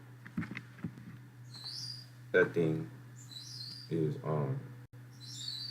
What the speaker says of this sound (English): sorry for the bird, y'all.